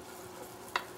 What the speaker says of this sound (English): Nothing better than sauteing garlic.